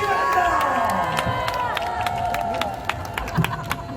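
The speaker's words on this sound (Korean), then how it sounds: "우리 목사님께도 뜨거운 박수를 보내주시기 바랍니다" Crowd at an outdoor patriotic rally in Gwanghwamun applauding and clapping, a dense steady spread of claps and cheering carrying on at moderate loudness through the whole stretch, with bursts of noise and babble mixed in.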